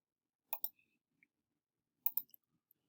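Two quick pairs of light plastic clicks from keys pressed on a calculator keypad, close and faint in near silence, with a few tiny taps trailing each pair.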